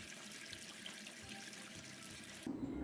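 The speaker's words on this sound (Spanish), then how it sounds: "Ahora la embonamos donde deja el agua y le colocamos el agua por la hendidura." Water pours steadily into a hydroponic plant pot through a slot, a soft continuous trickle that ends in a brief fuller splash.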